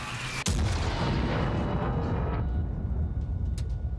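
A tank destroyer's cannon fires one heavy shell in a tank video game: a single sharp, loud blast with a long rumbling boom and fading echo, and no talking.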